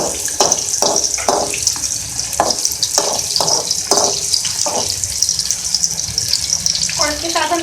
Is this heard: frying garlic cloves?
yes